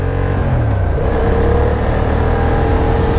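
A KTM motorcycle passing close by, loud engine drone with a falling pitch as it goes past, then a steady rumble continuing.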